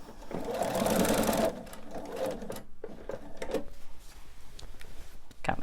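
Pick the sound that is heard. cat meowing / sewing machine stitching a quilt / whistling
sewing machine stitching a quilt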